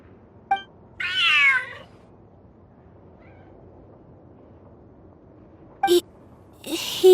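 A cat meows a few times, with a short chirp, a longer drawn-out meow, then two more quick calls near the end, close and clear against a quiet background.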